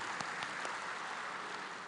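Faint, distant applause from a crowd at a regional coordination meeting in South Sulawesi, Indonesia, a steady wash of clapping with no voices over it.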